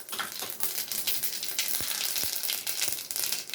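Mustard seeds sizzle and crackle in a small amount of hot oil, a steady loud frying hiss broken by sharp pops, close up with no talking.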